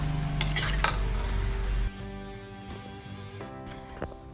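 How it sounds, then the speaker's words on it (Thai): Stir-fried spicy pork belly being scooped from a pan onto a plate, with metal utensil clinks and scraping against cookware over a low sizzle, close and fairly loud, no talking. "เตรียมจานมาพร้อมตัก เสิร์ฟเลยค่ะ"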